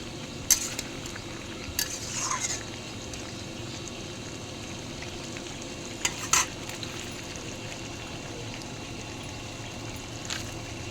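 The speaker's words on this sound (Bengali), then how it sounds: "ভালো করে কষিয়ে নিচ্ছি" Spices and vegetables sauté in a pan, giving a steady soft sizzle with scattered clinks and scrapes of a spoon stirring against the metal, heard close and alone.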